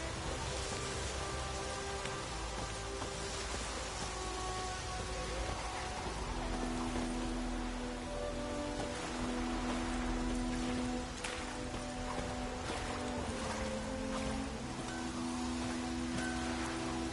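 Steady rain falls in a PS4 video game, a continuous faint hiss of drops on surfaces with no breaks, alone without talk.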